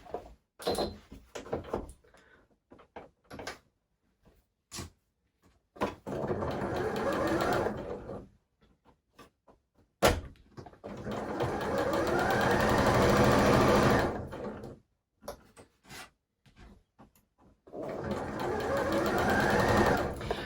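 A domestic sewing machine stitches a bust dart in fabric, running in several long bursts of steady whirring, with short pauses and handling clicks between runs, close and loud.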